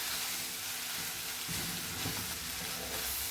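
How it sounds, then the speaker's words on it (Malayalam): Pasta and masala are stirred in a frying pan, a soft continuous sizzle with faint scraping and stirring, quiet and close, no voices. "അത് എല്ലാം ഇളക്കിയെല്ലാം യോജിപ്പിച്ച് വെച്ചേക്കുക"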